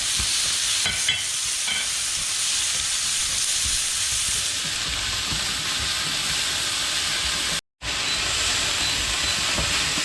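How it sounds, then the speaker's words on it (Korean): Steady sizzling and hissing of vegetables stir-frying in sesame oil for japchae, with faint stirring and scraping, loud and continuous with a brief dropout near the end. "참기름 넣고 볶아겠습니다"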